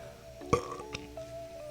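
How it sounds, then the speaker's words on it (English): A single short burp from a person, close and fairly loud, followed by faint quiet room sound. "Sorry, I had to burp."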